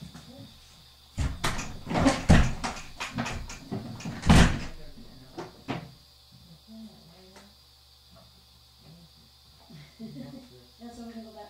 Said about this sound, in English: Do you want the door closed?